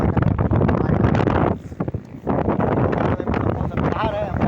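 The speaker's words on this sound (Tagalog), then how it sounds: "Pero mapakalakas po talaga ng hangin." Strong wind gusting hard in a lahar area in the mountains of Zambales, roaring and buffeting the microphone nearly throughout, briefly easing midway, with someone speaking over it.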